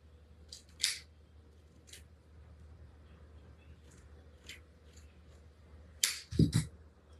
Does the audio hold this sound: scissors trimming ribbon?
yes